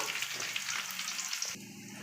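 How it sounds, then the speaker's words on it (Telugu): Thinly sliced onions frying in oil for chicken fry piece biryani give a steady, close crackling sizzle, with a brief clatter partway through and the hiss continuing evenly afterward. "ఆనియన్స్ అయితే చక్కగా ఫ్రై అయిపోయాయి కదా"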